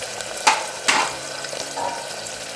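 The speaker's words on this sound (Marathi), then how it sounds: "थोडासा आपला कांदा ब्राऊन होईपर्यंत आपल्याला हे परतून घ्यायचं आहे" Onion is sautéed in a pan until brown for masale bhat, giving a soft, steady sizzle with a few sharp scrapes and clinks of stirring.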